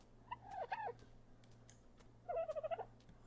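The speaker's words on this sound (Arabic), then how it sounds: "اوه كان في طير هنا وعالق" A bird stuck in the ARK Survival video game gives two short bursts of warbling, gobble-like calls, faint over a low steady hum, with a quiet pause between them.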